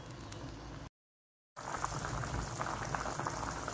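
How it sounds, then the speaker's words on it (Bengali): Curry gravy bubbling at a steady boil in a covered pot gives a dense, continuous hiss and fizz, broken by a brief silent gap partway through. "ফুটে উঠেছে ঝোলটা, আর একটু হবে।"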